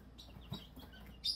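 Two-week-old chicks peep faintly in short high chirps, with a brighter, louder cheep near the end over a low room hum.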